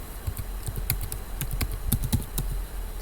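Fingers typing on a computer keyboard, quick irregular clicks and taps at close range, fairly quiet, with no talking.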